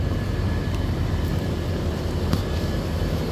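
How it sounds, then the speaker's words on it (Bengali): Exhaust fans push hot air out, giving a steady, loud, unbroken whir with a faint constant tone and no pauses. "এটা দিয়ে গরম বাতাস বাইরে হয় এই পাঙ্খাগুলো দিয়ে"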